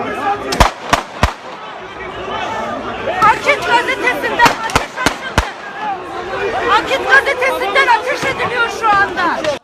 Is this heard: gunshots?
yes